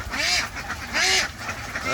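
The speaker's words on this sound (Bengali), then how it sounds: "চন্দন একটা হাঁস কী কারণে ধরছে সেটা আমি জানি না," A farm duck that has just been caught quacks loudly and close by, in two harsh bursts of calls about a second apart with quieter honking between.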